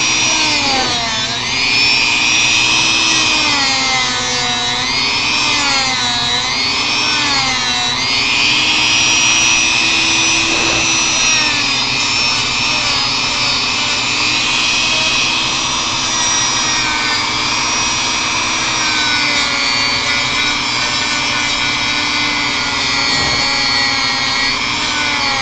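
Carving the front upper leg of a Final Fantasy V model platform brings a loud, continuous high-pitched power-tool whine that rises and falls in pitch as it bites into the material, unbroken for the whole stretch.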